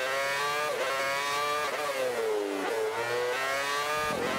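Formula 1 style race car engine in Forza Motorsport 5, revving high and shifting through gears with repeated rising pitch sweeps and brief dips, loud and continuous with no talking.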